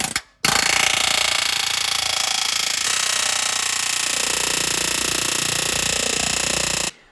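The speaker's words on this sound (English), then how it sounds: "If you don't have an air hammer, go get one." A pneumatic air hammer rattles loudly and continuously for several seconds after a brief start, a harsh, rapid metallic hammering close by, while a long arm suspension kit is installed on a Jeep JL.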